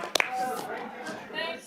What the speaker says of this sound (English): A round of applause to round off the departure.